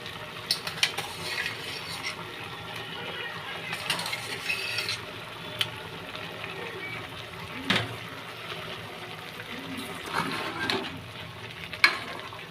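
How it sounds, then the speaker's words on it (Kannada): A village-style mutton sambar bubbles in a pot while freshly ground masala is stirred in, giving a steady low sizzle and bubbling with scattered scraping clicks of the ladle against the metal, close and continuous, no voices. "ಮಸಾಲೆ ಹಾಕೊಂಡು ಹಸಿ ವಾಸನೆ ಹೋಗೋವರೆಗೂ ನೀಟಾಗಿ ತಿರ್ಗಿಸ್ಕೋಬೇಕು"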